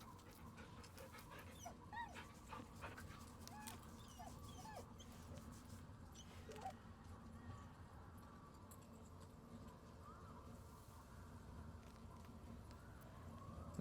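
Scratch, the dog in Baldur's Gate 3, pants and whimpers faintly with small yips, a low quiet stream of dog noises over a steady game background hum.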